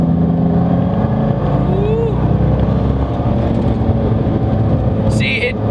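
A Corvette C6 pulls hard in a third gear roll-on, a steady loud engine drone with wind and road roar throughout, heard from inside the car.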